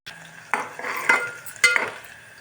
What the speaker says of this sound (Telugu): ఆనియన్స్ గోల్డెన్ బ్రౌన్ కలర్లో ఫ్రై అయిపోయాయి ఫ్రెండ్స్.